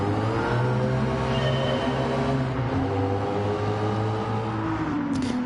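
Car engine revving in a racing video game, a loud continuous whine with steadily rising and falling pitch as the vehicle accelerates and shifts, filling the whole stretch without speech.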